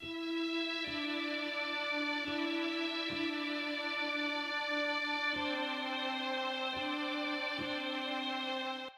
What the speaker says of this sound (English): We've also got this lovely mellotron sound, which is playing this counter melody.